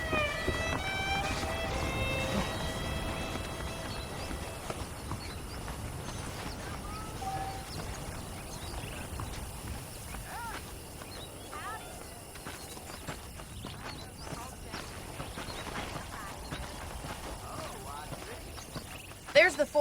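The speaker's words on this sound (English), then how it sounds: "The horses are saddled up over here." Saddled horses' hooves clip-clopping in the Red Dead Redemption video game, rhythmic hoofbeats at a walking pace mixed with ambient game sounds, with a voice speaking over part of it.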